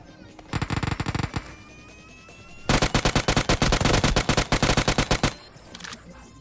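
Rapid automatic gunfire in PUBG Mobile, heard as two loud bursts: a short volley early on, then a longer rattling stream of shots after a brief pause.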